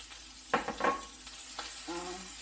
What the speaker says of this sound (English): dump in this onion and get it sauteing. I have some avocado oil already in the pan.